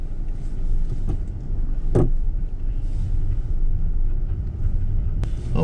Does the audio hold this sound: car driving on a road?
yes